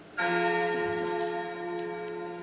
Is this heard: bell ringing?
yes